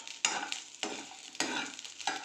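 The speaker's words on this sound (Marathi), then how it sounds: "आता मी जिरं पण टाकतो. मस्त फ्राय करून घ्यायचं त्याला." Cumin seeds frying in hot oil in a pan, with crisp sizzling punctuated by four sharp bursts about half a second apart as seeds hit and crackle, close and loud.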